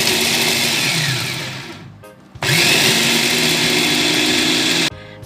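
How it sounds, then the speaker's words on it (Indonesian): A Mitochiba CH200 electric chopper grinds spices, its motor whirring loudly and close in two bursts separated by a brief stop. "Untuk menghaluskan bumbunya, di sini aku pakai chopper kesayangan ya, Mitochiba CH200"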